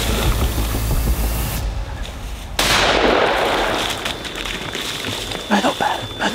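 A rifle shot rings out during a moose hunt in the Mauricie woods, a sudden loud blast at close range followed by a rumbling echo, with other noise before and after.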